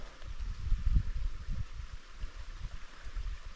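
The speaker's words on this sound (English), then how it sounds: "you can hear nothing but the creek" Forest creek flowing in dense woodland, a soft, steady low gurgle and rush of water heard fairly close, continuous with slight swells and no talking.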